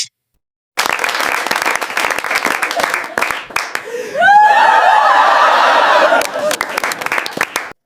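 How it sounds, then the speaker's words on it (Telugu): A studio audience breaks into loud, sustained applause with scattered laughter and whoops at the end of a comedy show, starting abruptly and continuing for several seconds before tapering off. "ఆడియన్స్, మనోడికి క్లాప్స్."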